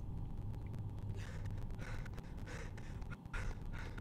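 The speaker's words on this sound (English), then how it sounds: "heavy breathing" Heavy, rhythmic breathing, with gasping inhales and exhales repeating for several seconds over a steady, rumbling background noise.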